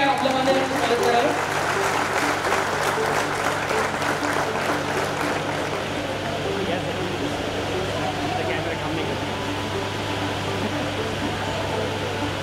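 Sustained applause welcomes dignitaries at the inauguration of a water literacy centre, loudest in the first few seconds, then thinning and settling under a steady hum and low talk.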